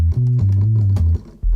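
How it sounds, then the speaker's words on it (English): A loud, deep single-oscillator synthesizer tone in Studio One steps through a few low pitches, buzzing with rich harmonics and sustained without pause. "all I have right now is just a single oscillator"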